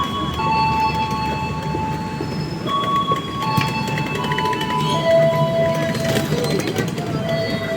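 Batavia economy passenger train rolling along, a steady rumble with faint wheel squeals and tonal whines over it, while people talk quietly in the carriage.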